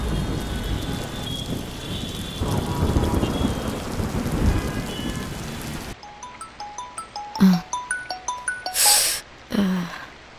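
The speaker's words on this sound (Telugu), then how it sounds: "అదే వర్షం పడుతుంది కదా" Heavy rain pours down in a dense, steady roar with rumbling thunder for about six seconds, then cuts abruptly to quieter, unrelated sounds.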